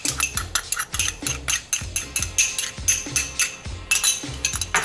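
A whisk stirs salt into pumpkin oatmeal in a pot, rhythmic metallic scraping and clinking strokes repeating about once per second, close and clear with no talking.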